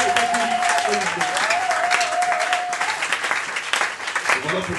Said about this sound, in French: tu acclames pour la gloire de Dieu